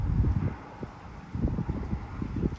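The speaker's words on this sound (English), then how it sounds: "Wind's blowing pretty good." Strong wind of about 20 miles an hour with gusts blows across the microphone at Copano Bay, giving uneven low rumbling buffets that surge and ease in gusts.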